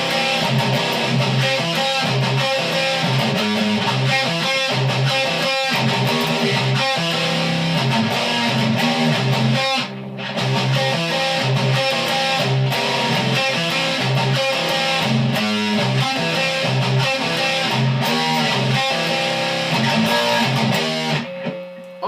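Distorted electric guitar tuned down to C playing the main riff of a song, with palm-muted chugs on the low string. The tone is dense and continuous, loud and close, with one brief gap midway.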